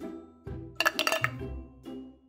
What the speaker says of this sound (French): Je crois qu'il faut enlever les glaçons.